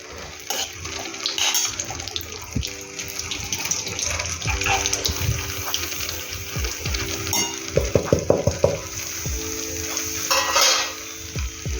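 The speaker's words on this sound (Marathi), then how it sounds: "इकडे आता रवा भाजून घेते" Semolina roasting in ghee in a pan, stirred with repeated close scraping strokes over a watery sizzle, accompanied by a steady background hum, no clear talk.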